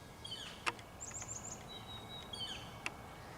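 Faint bird calls in the distance: a few high, thin chirps and a short trill over a quiet outdoor background.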